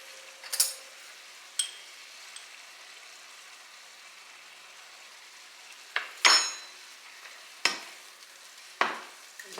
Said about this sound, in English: And just give it a little bit of a stir in there.